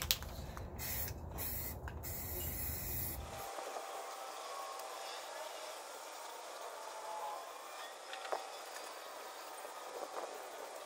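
Rust reformer is sprayed from a can onto the underbody of a Jeep YJ, with a few short hissing bursts and then a longer spray that stops abruptly, leaving faint background noise.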